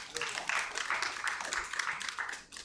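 A church congregation claps, a moderately close, uneven spatter of hands with rhythmic swells that tapers off at the end.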